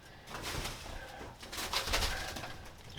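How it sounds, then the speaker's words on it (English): A bird at an off-grid homestead coos softly in a few low repeated calls, faint against outdoor background noise, with no one speaking. "Leave that bird alone, Sally."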